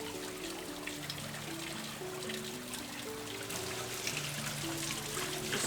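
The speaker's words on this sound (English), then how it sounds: "this water is actually holy, and it comes from an underground river" Holy water from an underground river trickles steadily at the Basilica de Los Angeles in Costa Rica, a continuous close wash of flowing water with a faint low tonal hum underneath.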